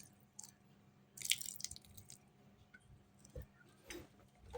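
Water drips and trickles into a dry dough for Indonesian onion crackers, making a few soft, close splashes and dribbles with a small burst near the start and quiet gaps between.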